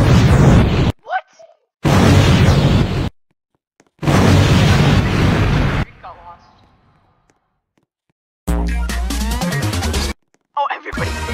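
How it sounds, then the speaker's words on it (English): Bomb explosions in the Roblox game rblxware burst out in several loud broadband blasts, each lasting about a second, separated by short silences, followed by bright game tones near the end. "Avoid the bombs."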